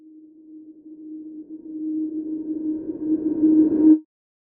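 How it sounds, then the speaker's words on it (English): A tonal riser swells steadily louder for about four seconds, gaining noisy texture and brightness before cutting off abruptly into silence. "So if we completely get rid of every track and only play the riser"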